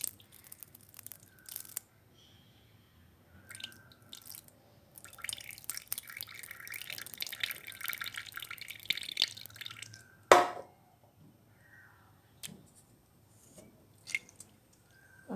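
Water is poured into a pot of cooked lentils (dal) for drumstick sambar, a splashy pouring rush in the middle with scattered drips and clinks before and after, close and alone.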